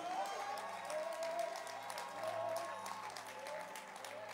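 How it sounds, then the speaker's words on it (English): A church congregation claps hands in steady applause, with a sustained tone and some voices running over the clapping throughout. "Yes, clap your hands for him"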